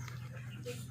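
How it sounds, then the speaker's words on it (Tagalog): Short, quick panting breaths from a Labrador dog, close and fairly quiet, a rapid rhythmic huffing over a low steady background hum. "Ayan yung aso natin."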